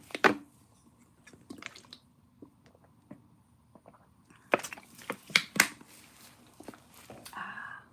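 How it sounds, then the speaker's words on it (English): A person drinking water, heard as a series of small wet sips, clicks and swallows at irregular intervals. The sounds are close and fairly faint, growing denser toward the end. "Time for some water."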